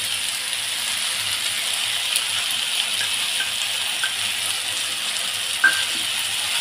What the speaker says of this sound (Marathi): आता हे सगळं आपल्याला पुन्हा 2 ते 3 मिनिटं परतून घ्यायचं